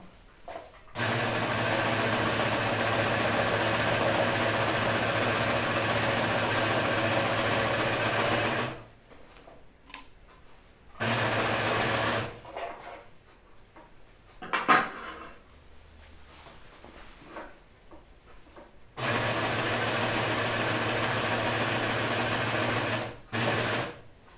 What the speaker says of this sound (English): I'm gonna serge these right now